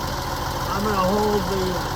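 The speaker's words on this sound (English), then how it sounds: "give it a few revs so you can hear the car roar" A 1951 Hudson Custom Convertible engine idles steadily and close by, a low continuous rumble with a slight rising tone midway, while someone speaks over it.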